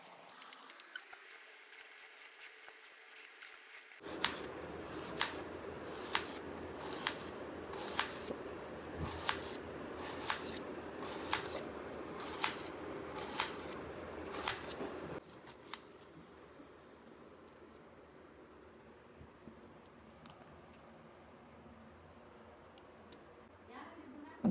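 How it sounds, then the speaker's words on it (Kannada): Raw banana being cut with a knife on a board: after a quiet start, a run of about a dozen crisp, evenly spaced chopping taps, close and clear, then quieter faint handling sounds. "ಇವಾಗ ನಾನು ಬಾಳೆಕಾಯಿ ಹೆಚ್ಕೋತೀನಿ."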